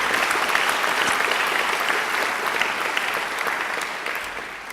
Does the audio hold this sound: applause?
yes